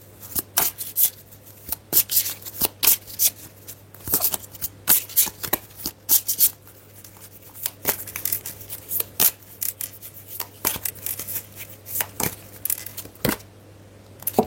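Tarot cards are shuffled by hand in quick, irregular flurries of crisp riffles and slaps, close and alone with no talking.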